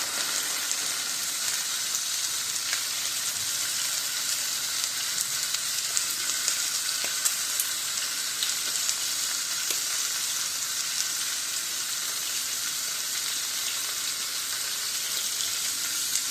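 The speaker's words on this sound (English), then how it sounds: "These chucks are getting a nice sear." Beef chuck pieces searing in a hot pan for tacos, a loud, steady, close hiss of frying fat that runs unbroken throughout with faint crackles and no talking.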